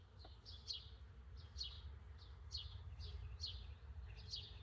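Honey bees buzzing at a hive where foundation is being laid, a steady low drone running throughout, with repeated bird chirps sounding above it.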